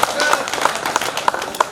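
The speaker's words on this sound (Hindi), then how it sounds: "एक बार ताली बजा के आदेश कीजिए" Audience clapping at a Hindi poetry recitation (kavi sammelan), a dense, steady patter of many hands with a few sharper claps standing out, fairly close and loud, with talk mixed in.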